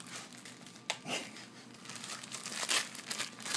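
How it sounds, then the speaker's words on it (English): A German Shepherd tearing into a wrapped Christmas present, with wrapping paper crinkling and ripping in short bursts close by, growing busier toward the end, no talking. "You want to unwrap it?"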